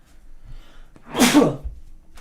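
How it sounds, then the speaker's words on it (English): A single loud sneeze close by, with a short intake of breath before the sharp burst. "Sorry, I need to sneeze."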